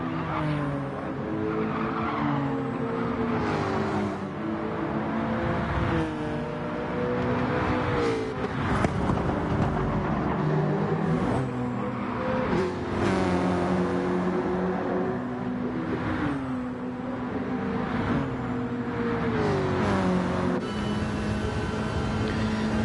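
Volkswagen Scirocco touring car racing in a video game at a Sardegna circuit, engine droning loudly and continuously with shifting pitch, tire skids and other cars close by throughout.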